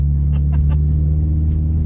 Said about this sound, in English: the throttle hang makes it sound like I'm just like revving it constantly for no reason